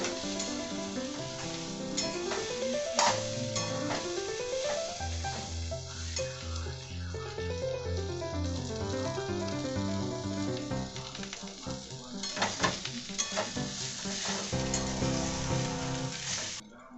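Potatoes sizzle and fry in a pan for a Bengali plain potato curry, a steady close crackle running throughout alongside background music, with occasional sharper stirring scrapes and no talk.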